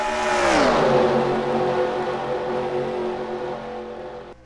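Racing trucks in a NASCAR Truck Series sim race at Daytona roar past in a loud, close pass, engine pitch sweeping down sharply before settling into a steady, sustained drone.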